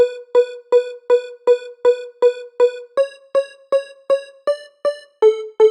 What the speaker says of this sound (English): So it's like a piano, bell, or pluck.